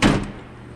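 A metal toolbox drawer opens with one quick sliding clunk that fades into quiet.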